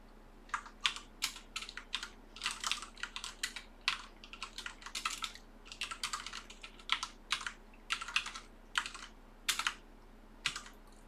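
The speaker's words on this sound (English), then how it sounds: "Now I'm typing this." Rapid, irregular keystrokes on a computer keyboard during a livestream about TNFS and retro computer repairs, clicking in short bursts at close range over a faint steady hum, with no talking.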